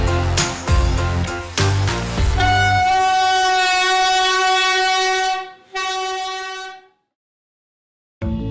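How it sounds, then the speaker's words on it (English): A train rolls through Hanoi's narrow train street, sounding a long, loud horn that holds steady for several seconds before cutting off, followed by a brief pause and then more rail noise at the end. "I can see why most people prefer to watch the train in the afternoon."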